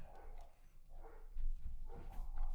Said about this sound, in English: And the dogs are going nuts.